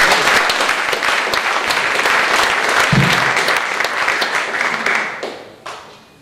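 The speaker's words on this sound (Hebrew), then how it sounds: "מחיאות כפיים." An audience at a volleyball evening at Hamaapil applauds the players with steady, dense clapping that fills the room and then fades out near the end.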